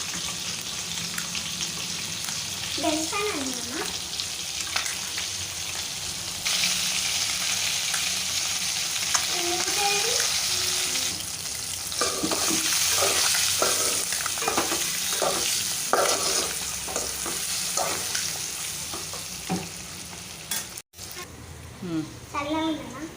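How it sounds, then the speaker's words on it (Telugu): Eggs roast in a hot pan for egg biryani, giving a continuous close sizzle with scattered clinks and scraping. People talk intermittently over the frying. "ఇప్పుడు ఈ ఎగ్స్ని అయితే రోస్ట్ చేసుకోవాలి"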